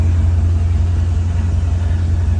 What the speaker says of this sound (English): Guys, so I got the car running good.